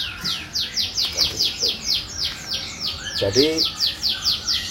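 Many birds at a bird farm chirp continuously in a fast, repeating rhythm close by, with a louder squawking call partway through and someone speaking briefly over them.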